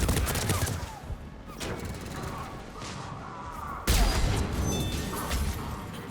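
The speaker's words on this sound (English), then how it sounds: "There's someone set up a turret up top." Turret gunfire in Mass Effect 3 rattles on continuously amid combat noise, with a sharp, louder burst partway through and a voice heard faintly.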